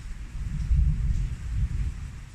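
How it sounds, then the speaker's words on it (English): Long rolling thunder from an outdoor storm with rain, a deep continuous rumble that swells and subsides across the whole stretch, loud and low with no voices. "That is some long thunder."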